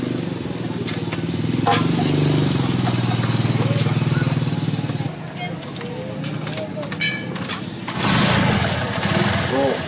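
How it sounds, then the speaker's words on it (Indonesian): A motorcycle engine cranks and catches, then runs in a steady loud rumble that dips briefly and surges again, with metallic rattling and voices over it. "Motor gue udah nyala."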